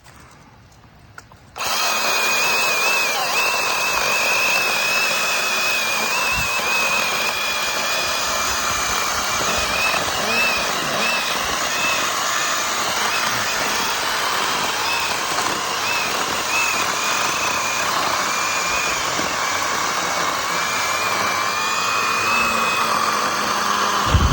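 A Makita DUC150 cordless mini chainsaw cuts through a log over 20 cm thick, starting with a sudden whine and then holding a loud, steady, unbroken buzz through the long cut.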